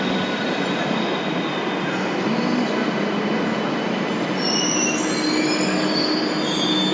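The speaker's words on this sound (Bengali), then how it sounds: "চলো, আমার মেট্রো এসে গেছে।" Metro train arriving at a station, steady loud rumble of wheels on rails with high squealing tones building toward the end, no talking.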